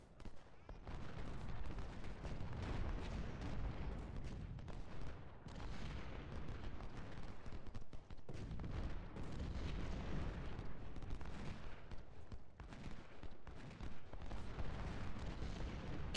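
Civil War brigades firing volleys in Ultimate General: Civil War, a dense, continuous rumble of massed musketry and booming artillery that rolls on throughout, with brief dips in intensity.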